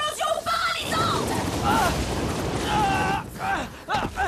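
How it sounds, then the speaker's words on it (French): A cartoon paralyzing explosion attack blast effect, a series of booming, crackling bursts with warbling, whooshing tones layered over them, loud and busy throughout. "Explosion paralysante!"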